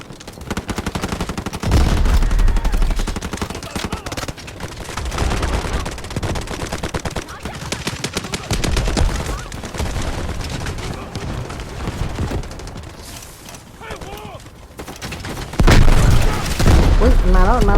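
Gunfire in the mobile shooter Delta Force Mobile, SCAR rifle bursts and explosions crackling and booming loudly throughout, dense and nearly continuous, with in-game voice alerts and a player talking over the action.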